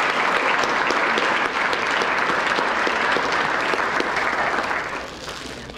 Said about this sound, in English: Everybody, round of applause for our executive director.